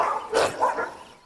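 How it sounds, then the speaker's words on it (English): A few sharp dog barks in quick succession, fairly close, with a second bark answering right after the first. "Their blood-curdling barking echoed through the village."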